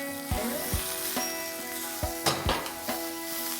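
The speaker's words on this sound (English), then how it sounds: "Once these are stir fried, I'll add in the sliced onions and along with this, for some extra spice, some more chilies." Onions and chilies being stir-fried in a pan give a steady close sizzle, broken by a few sharp clanks and scrapes of a spatula against the pan.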